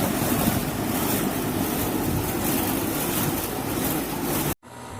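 An old 2004 home air conditioner unit runs with a constant loud broadband whoosh and rumble, steady throughout, close to the microphone, and then briefly cuts out near the end before resuming.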